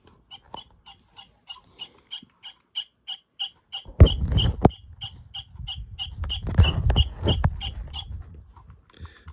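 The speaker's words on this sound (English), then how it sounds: "the common snipe." Common snipe call from a singing bird clock: a steady run of quick, high, evenly spaced chipping notes, close by, joined partway through by louder rumbling handling noise, with no talking.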